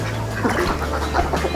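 Khaki ducks on a duck farm giving short raspy quacks, close and fairly loud over a steady low background hum, with no talk.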